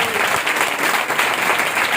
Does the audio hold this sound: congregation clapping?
yes